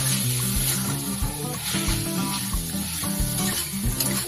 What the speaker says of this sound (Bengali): এটার সাথে খুব ভালো করে কষিয়ে নেব।